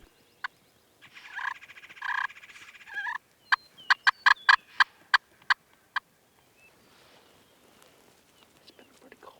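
Wild turkeys gobbling near a pond during a turkey hunt, a rattling gobble followed by a quick series of sharp clucks and calls, fairly distant in a quiet outdoor setting with faint chirping afterward.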